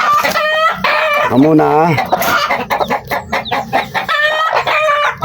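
A mother hen and her chicks, a native Filipino breed, cluck and call close by, with bright repeated chick peeps and a louder, drawn-out hen call in the middle, while a person talks intermittently.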